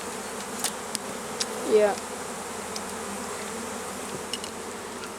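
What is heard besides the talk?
swarm of bees buzzing at a hive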